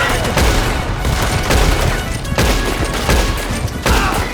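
A train robbery shootout in Red Dead Redemption 2 Online brings dense, rapid gunfire, a loud fusillade of overlapping shots and booms that continues without pause across the clip.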